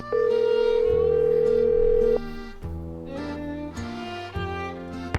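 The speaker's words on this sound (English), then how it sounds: "Looks like we can make some phone calls, so let's maybe do that." Telephone dial tone in the Nancy Drew video game The Secret of Shadow Ranch: a loud steady tone lasting about two seconds, then a run of clear dialing tones in quick succession, with no voices.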